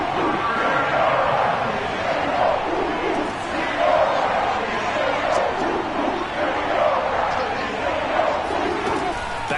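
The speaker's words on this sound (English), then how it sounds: "that's where this Cleveland crowd, the dog pound in particular, make it difficult on opposing offenses" Cleveland stadium crowd at a football game: a dense, continuous roar of many voices filling the air, loud and sustained throughout with sports commentary running over it.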